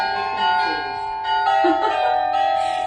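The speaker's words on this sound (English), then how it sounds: "It's my doorbell." A festive doorbell in a home rings out a melodic chime with sustained bell-like tones, a few notes sounding in sequence, fairly loud and close, with no speech over it.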